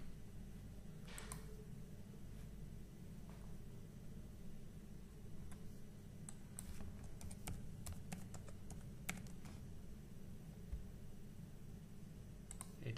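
Fast, irregular computer keyboard typing with crisp clicks in scattered bursts over a quiet room hum, fairly soft and close.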